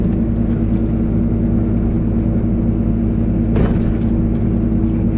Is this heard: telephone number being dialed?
no